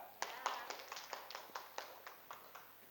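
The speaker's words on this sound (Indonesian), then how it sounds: "Tepuk tangan untuk kelompok Nabi Ibrahim" In a classroom lesson on Islamic creed and ethics, hands clap for a student group: a faint, quick string of distinct claps in a loose rhythm, roughly a dozen over three seconds.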